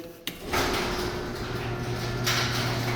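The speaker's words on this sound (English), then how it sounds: "Garage door works from the inside." A residential garage door runs from inside the garage, opening with a sudden clunk and then a steady mechanical rumble and hum that carries on at moderate loudness.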